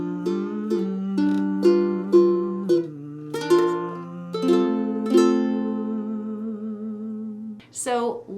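Ukulele chords from a song's outro ring out in a slowing strummed progression, each chord clear and close with a sustained tone, ending with a brief final flourish.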